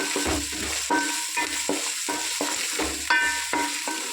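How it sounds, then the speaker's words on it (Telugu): Chicken is being stirred and mixed by hand with chicken masala, cumin powder and pepper powder in a bowl, giving a steady series of soft wet squelches and scraping strokes that repeat in a regular rhythm, close and alone. "చికెన్ మసాలా ఒక స్పూను, మిరియాల పొడి కొంచెం వేసి కలిపిస్తున్నాం"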